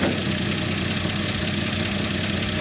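Engine of a classic Dodge truck, revived after sitting about 30 years, idling steadily with a low even rumble and broad mechanical hiss, close and continuous with no voices.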